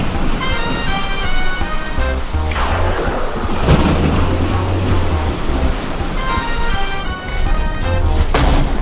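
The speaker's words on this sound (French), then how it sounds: "ils ont été pris dans une tempête" Thunderstorm at sea with loud, steady rain and rolling thunder rumbling in low booms across the whole stretch, a sharp crack near the end, backed by a bright tonal music bed.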